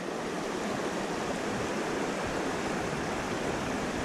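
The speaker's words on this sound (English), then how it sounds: "this creek off the mountain." A mountain creek flowing, a steady, dense rush of running water that stays constant and close throughout with no other sounds.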